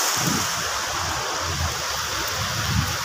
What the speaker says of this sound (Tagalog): Punta natin yung falls sa likod.